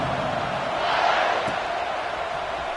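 A football stadium crowd gives off a steady, loud roar, a broad continuous wash of many voices that swells slightly midway and carries no distinct speech.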